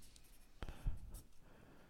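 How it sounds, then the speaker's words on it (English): Pen writing notes on paper during a watercolor lesson, a few soft close scratches and taps in a quiet room. "let's write this down here"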